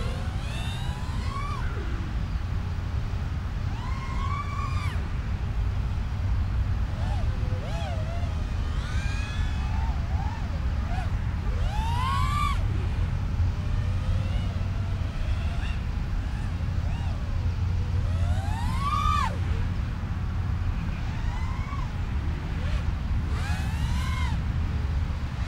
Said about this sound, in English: You can hear those Gemfan 3018 bi-blades.